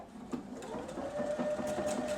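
Sewing machine stitching a bridging stitch, a soft steady mechanical whir with a faint rhythmic ticking of the needle, fairly quiet and close, no talk.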